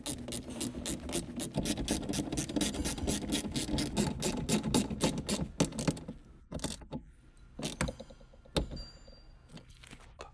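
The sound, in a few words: small ratchet wrench tightening window regulator mounting bolts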